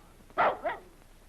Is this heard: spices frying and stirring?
no